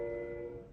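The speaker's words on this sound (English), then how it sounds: "So sound the horn" A locomotive horn blows one steady tonal blast during railroad switching moves, loud and close, cut short.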